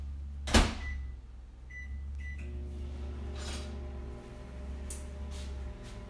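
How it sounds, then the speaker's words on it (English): A microwave oven melting butter for a batch of cookies: a sharp click or door thud, then a steady low hum of the running oven with a few faint clicks and rattles. "I'm gonna put mine in the microwave for about 20-25 seconds"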